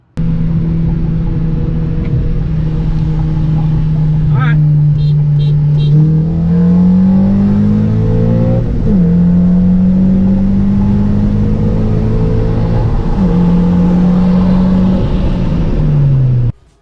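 A turbocharged 10th-generation Honda Civic Sport revs hard and climbs through gears during a race, with whining pitch rising and dropping at each shift, loud and continuous throughout.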